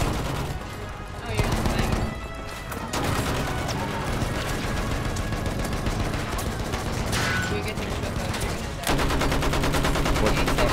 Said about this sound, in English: We're getting shot out here.